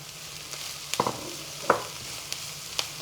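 Quiet sizzling of onions and carrots frying together in a pan, with a few soft stirring scrapes and clicks, fairly close and low in level.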